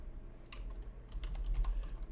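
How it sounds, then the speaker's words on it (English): A few light, quick keystrokes on a computer keyboard, close and quiet, with a low steady hum underneath. "we'll just type in Google."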